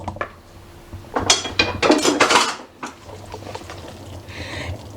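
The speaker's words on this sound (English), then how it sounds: "you are going to put the tuna fish mixture on your bread" Tuna fish mixture being spread onto bread for a sandwich, with soft scraping and clinks of a utensil against a dish in a few close, irregular bursts over quiet kitchen background.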